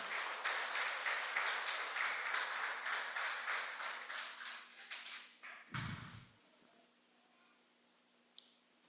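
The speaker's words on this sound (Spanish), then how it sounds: "Denle un aplauso al Señor." Congregation applauding during a Spanish-language church service, a steady burst of clapping that fades out after several seconds, followed by a thud and quiet room tone.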